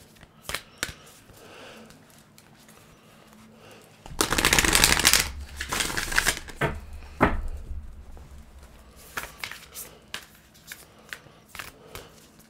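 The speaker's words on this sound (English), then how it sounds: "Shuffle this." A deck of reading cards is shuffled up close, with soft scattered taps and slides at first. A loud riffling burst of a couple of seconds follows, then more quick riffles and scattered card clicks.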